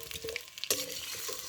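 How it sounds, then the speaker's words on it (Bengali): Potatoes sizzle in hot oil in a pan for a village-style Kolkata mutton biryani, a steady close frying hiss with brief stirring scrapes and a sharp clatter partway through, no voices. "এবার আলুগুলো ছেড়ে দেবো, আর এগুলো ভাজা হবে"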